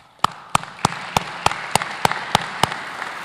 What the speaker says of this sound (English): I want to give a special applause to everyone who I've just mentioned